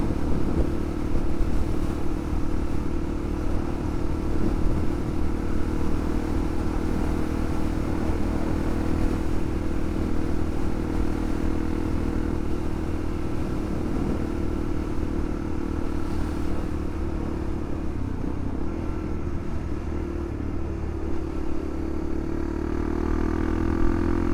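A Honda CRF250L motorcycle engine runs loudly and continuously on green lanes, its revs rising and falling with some rattling clatter as it moves over rough ground.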